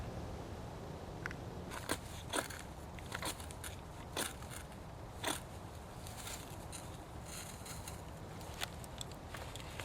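A campfire crackles softly at a wilderness overnight shelter, giving off scattered sharp pops and snaps over a faint low rumble.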